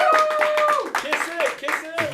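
Audience clapping for the winner of a Madden Super Bowl video game tournament, a quick run of hand claps at trophy presentation, with a speaker talking and cheering voices layered over the applause.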